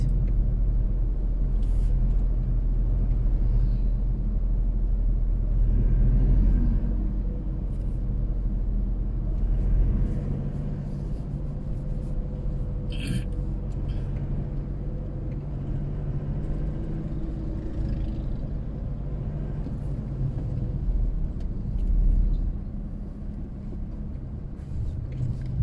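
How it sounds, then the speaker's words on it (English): A Toyota Hilux G drives along a road near a port, its engine and tyre noise a steady low rumble throughout, with occasional faint higher clatters and no talking. "still driving our Toyota Hilux G guys."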